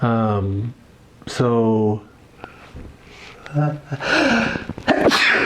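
A single sharp sneeze bursts out close by, surrounded by casual talk and voices before and after.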